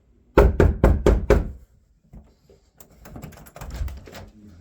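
Police knock firmly on an apartment door, five loud close raps in quick succession, followed by quieter rustling and faint muffled sounds.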